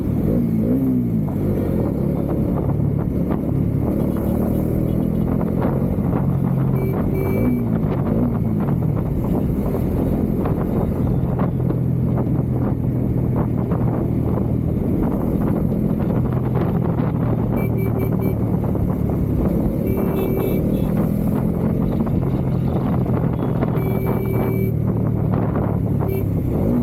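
A 2023 Bajaj Dominar 400 motorcycle engine rumbles and revs from inside a helmet, muffled and boomy under constant wind buffeting, with the pitch rising and falling several times.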